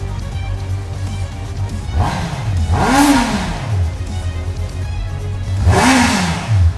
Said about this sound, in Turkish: Bir dakika kontağı aç. evet, kontağı açmadan gitmez.